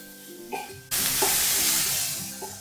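Chopped ridge gourd with curry leaves and chillies goes into a hot pan for stir-frying. A sudden loud sizzle bursts in and settles into a steady close hiss, broken by soft scrapes of stirring.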